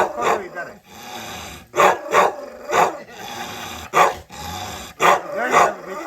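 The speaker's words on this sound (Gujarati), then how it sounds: "અમારે દેશી કૂતરો આવે" Native Indian dog barking repeatedly on a rural farm, several sharp barks spaced irregularly through the clip with some low growling in between, close and fairly loud.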